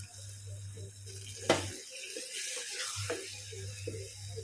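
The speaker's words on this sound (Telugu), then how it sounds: "నీళ్ళు పోస్తున్నాం" Water poured into a pot of red lentil dal in a brief splashing rush, close by, against a low kitchen hum.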